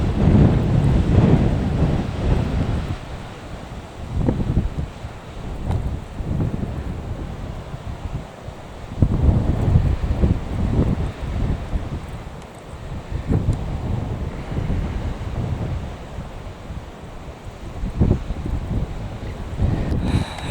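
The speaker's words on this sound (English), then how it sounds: "Oh, I got some waves." Ocean waves wash onto a Dorset beach near Swanage, a steady rushing surge with repeated swells, heavily buffeted by wind noise against the microphone.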